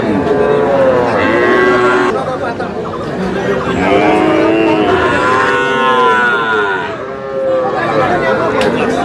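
Cattle, small bulls and calves at a Comilla livestock market, mooing repeatedly and loudly close by in long drawn calls, one after another, over a steady background of crowd chatter.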